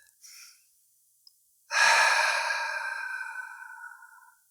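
A single long, deep breath during a guided EFT tapping session. A faint intake comes first, then a strong, close, breathy exhale that slowly fades over a couple of seconds, with no speech.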